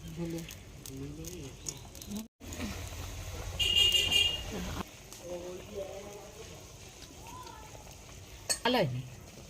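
Large masoor lentil fritters go into a sizzling lentil curry, a steady frying hiss that swells for a moment under continuous nearby talk.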